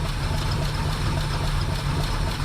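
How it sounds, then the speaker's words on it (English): A 1976 Chevrolet C10 squarebody truck engine idling after a cold start with no choke, a steady, close, low rumbling drone that holds even throughout with no talk. "What an engine."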